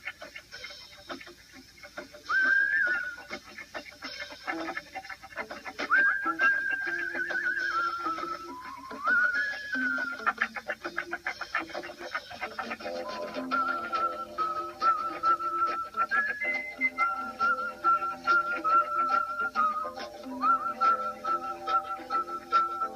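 Melodic whistling in a recorded song, a wavering tune carried over a muted background with soft rhythmic ticking, steady and fairly close for over twenty seconds, with no talking.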